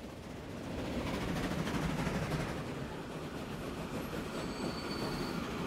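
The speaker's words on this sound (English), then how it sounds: "It's the passenger train back to Pyongyang." A passenger train rolls steadily in Transport Fever 2, a low rumble of wheels on track with a faint high squeal near the end. It stays quiet and even throughout, with no voices.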